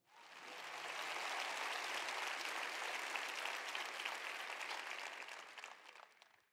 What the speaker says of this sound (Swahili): Mpigieni Mungu shangwe.